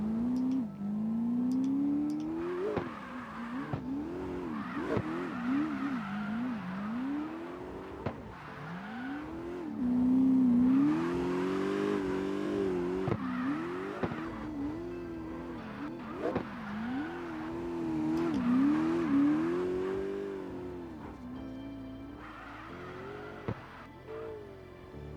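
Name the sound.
race car driving fast up a hill in a racing video game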